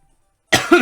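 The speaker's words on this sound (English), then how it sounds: "Sorry for the cough." A single sharp cough, close and loud, breaks a moment of silence, followed by a brief throaty rasp as it trails off.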